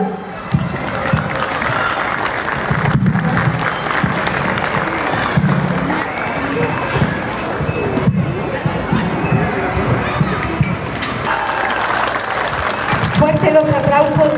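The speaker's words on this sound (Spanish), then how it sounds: "Los aplausos para este grupo de danza" Crowd applause for a jarabe mixteco dance group at a patronal fiesta, steady and loud throughout, mixed with cheering, background music and a voice over a public address.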